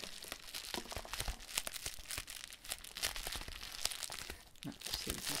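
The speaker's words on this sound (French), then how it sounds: "Papier bulle." Crisp crinkling and crackling of plastic bubble wrap being handled, irregular bursts close up, with no talking.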